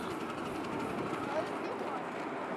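Steady rumbling of a steam train ride at McLean Island Steam Train Park during Christmas in the Park, a constant mechanical roar with faint rattling throughout.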